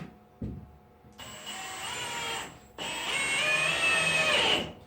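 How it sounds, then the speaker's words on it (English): A cordless drill drives screws into wooden window framing for a tiny-home bathroom window, whirring in two sustained bursts that rise in pitch as each screw seats, with a short pause between. "I kind of want to go ahead and run 3 screws in it"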